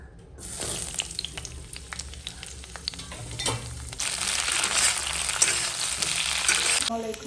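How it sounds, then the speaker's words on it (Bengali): Potato and cauliflower pieces frying in hot oil in a home kitchen, a bright hissing sizzle that swells louder partway through, with occasional clinks and stirring. "আমি এখন তেল দিয়ে আলু ফুলকপি ভেজে নেব"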